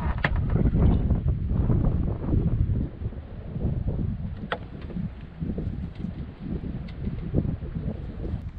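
Gusting wind buffets a small sailboat short-tacking near Bull Island, rumbling against the microphone in uneven bursts, with faint creaks and splashes from the boat between gusts.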